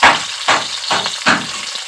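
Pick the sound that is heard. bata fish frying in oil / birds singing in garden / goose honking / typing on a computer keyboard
bata fish frying in oil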